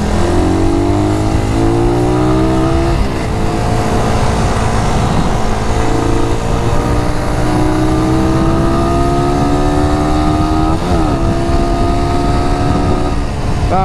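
A carbureted Suzuki Raider 150 motorcycle fitted with a 14T-45T chain set accelerates hard and close by, its pitch climbing steadily with a couple of brief dips as it shifts, loud throughout with no talking.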